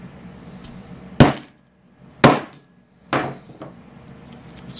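A hammer strikes a lump of bismuth three times at roughly one-second intervals, each blow a sharp, loud metallic crack ringing briefly over a quiet background.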